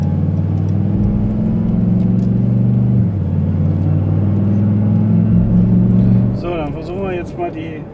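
A Brabus-built heavy off-road vehicle on a test track, its engine holding a steady loud low rumble with a slight shift midway, then tapering off as a voice speaks near the end.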